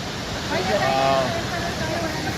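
White Falls, the first waterfall before Emperor Falls on the Mount Robson trail in British Columbia, a steady broadband rushing roar that stays loud and constant throughout, close by.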